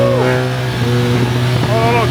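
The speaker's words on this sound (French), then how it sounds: "qu'est-ce qu'elle marche sa moto" A BMW GS 1300 motorcycle accelerating along a road in Morocco, its engine note climbing in pitch through the gears under steady wind rush, with a voice speaking over it.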